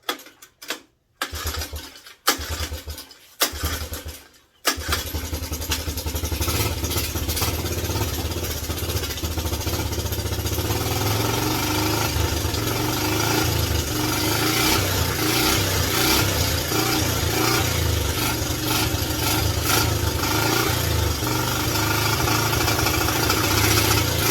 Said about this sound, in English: Hey, it's running off the carb.